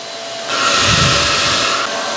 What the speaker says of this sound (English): Here's another hair dryer.